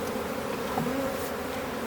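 Honeybees drone steadily in an open hive while the frames and queen cells are checked, a close continuous buzz with a brief rising whine from a single bee passing near.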